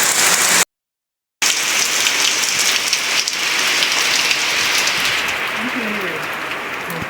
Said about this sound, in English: the rain is falling outside